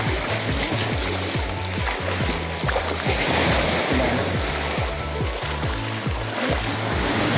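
Strong ocean waves surge and wash continuously at Puka beach on Boracay, a loud rushing churn of water with no words spoken over it.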